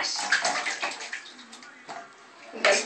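A small child splashes water in a bathtub, irregular close slaps and sloshes that come in bursts with pauses, while an adult's voice is faintly heard.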